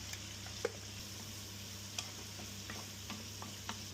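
Devilled prawns with bell pepper and chilli sizzle softly in a pan while a utensil stirs them, leaving occasional light taps and scrapes over a low hum, close and quiet.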